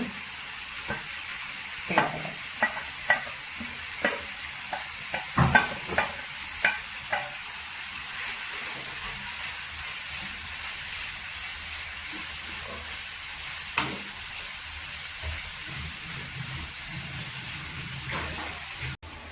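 Carrots stir-frying in a pan for a drumstick pasta dish, with a constant hiss of frying and scattered light scrapes and taps of stirring, close and steady.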